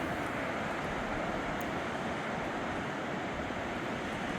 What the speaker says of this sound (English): waves not nearly as rough as they've been. Kind of pretty and gentle coming in today.